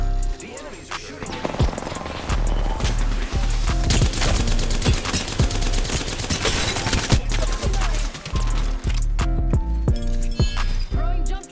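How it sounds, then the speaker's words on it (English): Enemy gunfire in the Apex Legends video game, dense rapid shots and bursts crackling almost nonstop for about eleven seconds, loud and close, with game sounds layered underneath. "The enemies are shooting."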